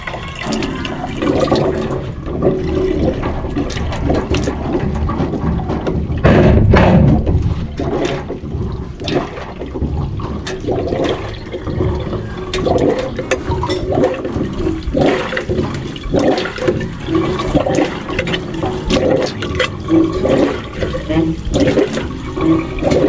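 Water gushes and splashes steadily from a freshly primed hand pump, a loud continuous rushing with surging bursts throughout.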